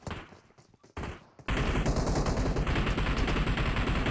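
Gunfire in the mobile game PUBG Mobile: a few scattered shots, then dense rapid automatic bursts that stay loud and continuous to the end.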